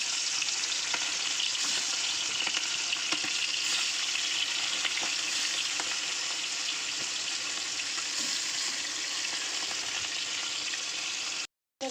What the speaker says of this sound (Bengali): তো চলো চিকেনগুলো আগে একটু ভেজে নেওয়া যাক